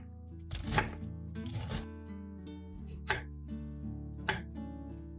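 A knife cuts cabbage into strips on a board, giving four or five distinct crisp chops at uneven intervals against a quiet, low background hum.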